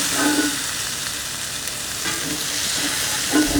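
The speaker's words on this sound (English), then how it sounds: "Once they get halfway sauteed, you can see a lot of liquid coming out of them." Sausages sauté in a pan, giving off liquid as they cook, with a steady close sizzle and frying crackle running throughout with no talk.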